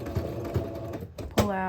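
A sewing machine back stitching a ribbon skirt seam, running in short bursts close by before a louder whirring run at the end.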